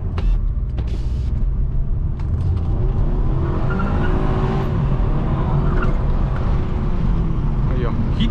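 A 2.0 turbo Audi A3 Sportback accelerates hard from inside the cabin, its engine note rising steadily and loudly in pitch over several seconds without any talking.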